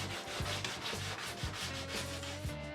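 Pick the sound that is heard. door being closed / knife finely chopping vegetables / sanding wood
sanding wood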